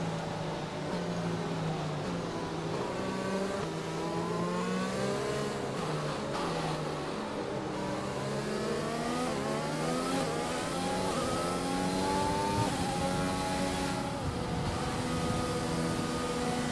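Formula 1 race car engine in a video game at Silverstone, revving steadily through the gears with rising and falling pitch sweeps, loud and continuous with no talking.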